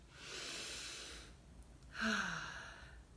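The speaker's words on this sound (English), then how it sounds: "Let's take a nice deep breath" A long, slow inhale through the nose followed by a fuller, voiced exhale, one deep breath taken calmly and close up with no other sound.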